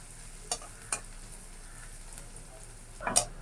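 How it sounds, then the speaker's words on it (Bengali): Onion fries lightly in oil with a faint, soft sizzle broken by a few sharp pops and a stirring scrape near the end, with no talk. "আমি পেঁয়াজটা একটু তেলে দিয়া একটু ভাইজা নিলাম হালকা ভাজা"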